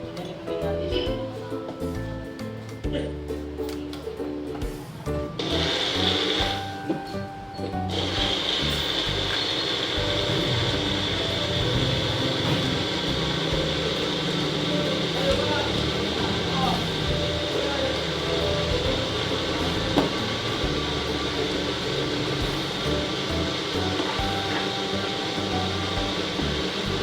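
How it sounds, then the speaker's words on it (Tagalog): A small portable blender motor whirs in a steady, even drone while mixing a chocolate milkshake, after some brief clattering, continuing unbroken for a long stretch. "ang ating blender is portable blender lang po."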